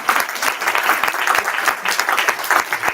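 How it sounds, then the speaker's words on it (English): An audience at a school annual day celebration claps steadily and enthusiastically, a dense, even wash of applause throughout. "So a big round of applause for everyone."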